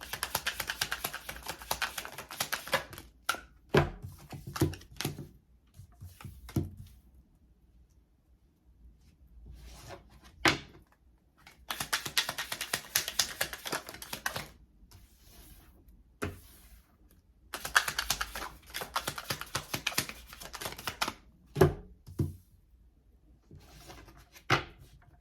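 Tarot cards are handled and shuffled in bursts of papery riffling and rubbing, separated by quiet pauses and a few sharp taps.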